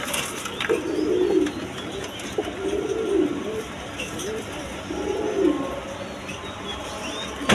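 Domestic pigeons kept for sale coo in low, rolling calls, three distinct coos spaced a couple of seconds apart over a faint background hum, fairly close by.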